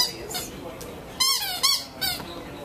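Reggie, a rescued stray dog, chews a squeaky toy at a Petco store, producing several sharp, close squeaks in quick bursts over a low murmur of background store noise.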